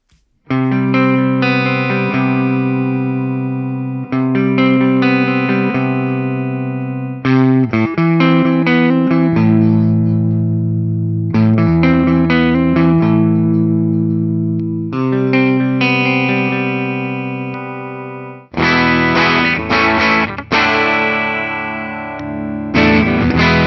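Heavily distorted 2014 Gibson Rock and Roll Hall of Fame Les Paul Custom electric guitar plays loud chords and riffs with effects, close and sustained, with short breaks between phrases and no talking.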